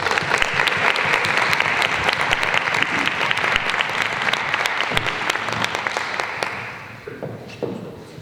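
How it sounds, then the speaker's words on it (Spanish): An audience at an education event applauds teachers on Teachers' Day, a loud, dense wash of clapping that carries on steadily, then thins into scattered claps near the end. "pediría un aplauso para todos los profesores"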